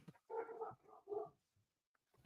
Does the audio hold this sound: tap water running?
no